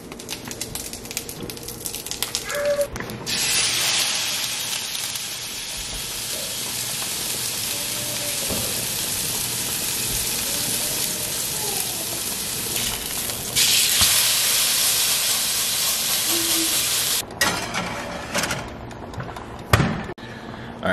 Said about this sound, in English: seared the steaks in less butter than normal